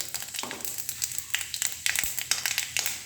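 Homegrown bay leaves, cut into long pieces, dropped into hot oil for tempering give a faint hiss with scattered small crackles and pops, close by and fairly quiet.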